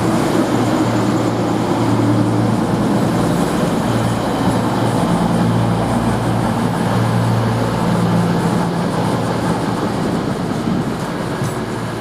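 CrossCountry Class 220 diesel unit at Coventry railway station, a steady loud rumble of engine and rolling wheels sustained close by, with no talk.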